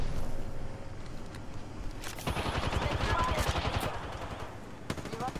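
Video-game automatic gunfire in Apex Legends, a rapid burst of shots heard mid-range with other game sounds and a voice talking around it.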